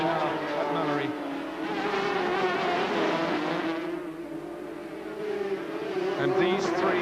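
Racing sidecar outfits run flat out down the long straight at Mallory Park, a loud, buzzing high-revving engine drone that rises and dips as the machines pass, under continuous commentary.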